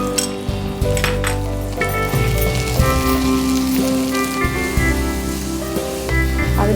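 Ginger and garlic paste frying in a pan with fried onions, a steady close sizzle with occasional clinks of utensils against the pot, continuous and fairly loud throughout.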